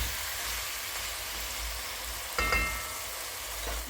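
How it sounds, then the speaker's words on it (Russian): Onions and meat fry together in a pan for a pumpkin dimlama stew, a soft steady sizzle with a brief stirring scrape midway, heard alone and fairly quiet. "Отправляем наш лук, перемешиваем и продолжаем жарить"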